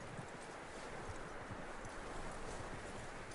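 A horse in Red Dead Redemption 2 clip-clops along with steady, rapid hoofbeats, faint and fairly distant, with no voices over it.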